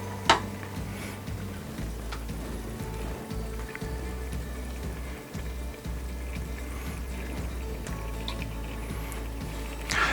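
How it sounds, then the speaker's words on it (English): Sauce bubbling in a pan before chicken pieces go in, a close, steady patter of small pops and drips running continuously without talk. "once everything is nice and bubbling together like that"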